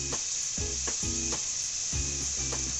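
Chopped garlic sizzles steadily in hot oil for hilsa fish dopiaza, with a constant bright hiss and a few soft spatula scrapes and knocks coming in regular pulses.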